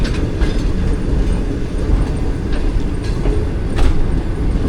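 Heard from inside a coach, the Millat Express passenger train rolls along with a loud, steady low rumble and rattle, faint rhythmic clacks of the wheels marking the track joints.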